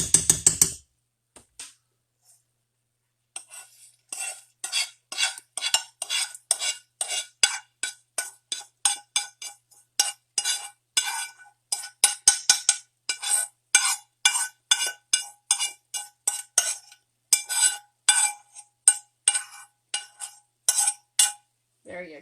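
A utensil stirring cooked bacon into creamy, cheesy broccoli in a pan, with rapid repeated metallic scrapes and clinks in an uneven rhythm, close and fairly clear.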